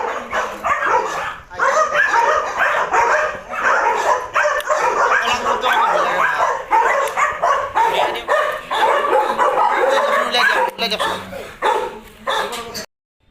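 A dog at a dog training center barks, yips and whimpers excitedly in rapid, repeated bursts, loud and close, continuing for most of the time before cutting off at the end.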